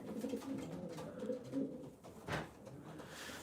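Pigeons coo softly in a loft at night, giving low, repeated calls that overlap with faint shuffling and rustling. A short, sharper sound cuts in near the end.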